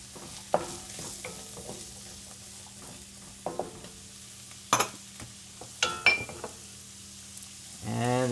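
Celery dropped into a hot pan while the heat is turned up for an andouille sausage and cornbread stuffing, a low sizzle with scattered clinks and scrapes of a utensil on cookware, then a louder burst of frying near the end.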